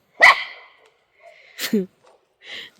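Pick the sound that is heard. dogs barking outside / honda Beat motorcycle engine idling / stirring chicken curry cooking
dogs barking outside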